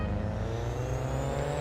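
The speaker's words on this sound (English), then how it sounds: "I like the sound on this car" A car engine in the racing video game Real Racing 3 drones at a steady low pitch, an even sustained hum with no gear changes, heard alone without voices.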